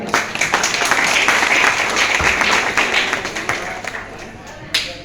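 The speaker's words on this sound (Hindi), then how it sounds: "एक बार सबके लिए जोरदार तालियां।" Loud audience applause with dense, sustained clapping at a stage event, steady for most of the span before tapering off, with a brief burst of claps near the end.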